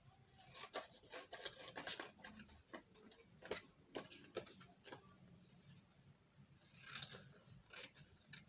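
Scissors cutting out darts from a paper corset pattern, a series of close, crisp snips and paper rustles, irregular with short pauses between cuts.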